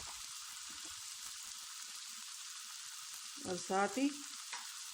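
Meat frying in a pan for a home-style kachori recipe, a faint steady sizzle running throughout, briefly overlaid by a woman's speech.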